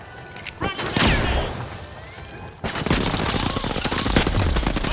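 Frag grenade blast in the arena shooter THE FINALS, a sharp broadband boom near the midpoint followed by dense rattling gunfire and crashing debris, loud and close throughout.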